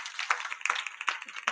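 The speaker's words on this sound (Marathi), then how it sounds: "एकदा टाळ्या वाजवा जोरदार" A kirtan audience claps hard in a steady rhythm of sharp bursts, about every four tenths of a second, close and lively with no talking.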